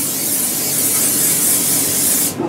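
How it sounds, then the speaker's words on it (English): A continuous, close aerosol cooking spray hisses onto baking pans for about two seconds before cutting off abruptly. "And cooking spray on each one of them."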